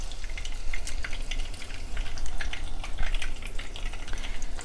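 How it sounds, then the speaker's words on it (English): Chicken flautas frying in hot oil, a steady dense crackle and sizzle with scattered pops that holds evenly throughout, close and fairly loud, with no one speaking. "So I'll let them fry for a minute and a half"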